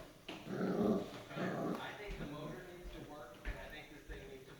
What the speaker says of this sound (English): The little terriers are playing with it.